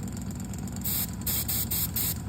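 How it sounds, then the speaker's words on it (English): A small compressor hums steadily while a mini spray gun fires several short, loud bursts of hissing spray in quick succession. "Little miniature compressor. Little artist mini spray gun."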